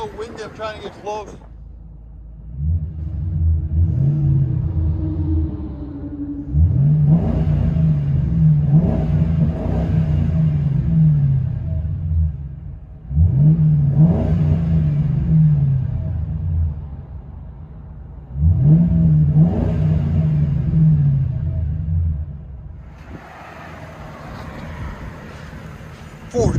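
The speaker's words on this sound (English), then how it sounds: "with Flowmaster Outlaws and 4-inch tips. Get on it!" A Ford Crown Victoria 4.6L V8 with Flowmaster Outlaw mufflers and 4-inch tips revs repeatedly, four or five deep throaty bursts rising and falling, recorded close up with wind noise between revs.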